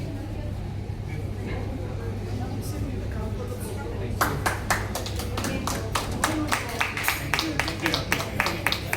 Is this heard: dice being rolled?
no